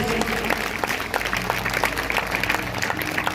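A church congregation at a Sunday service claps loudly and quickly, with sharp hand-claps standing out close and clear over a low, steady tonal background.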